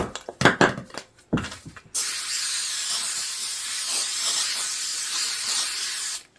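Scotch 77 spray adhesive sprays from an aerosol can in a long, steady hiss of about four seconds, preceded by a few handling clicks and clatters.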